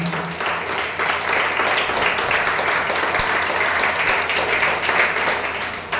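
Audience at a Tamil parish community Christmas celebration for St. Anthony's clapping together in sustained, dense applause that holds steady from start to finish.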